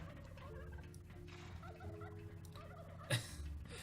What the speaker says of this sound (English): Fucking turkeys.